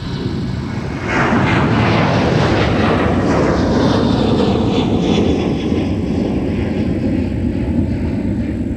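An airliner takes off from runway 30 right at Minneapolis–Saint Paul airport, engine roar swelling abruptly after a second and then holding loud and steady as the aircraft accelerates away, with no speech.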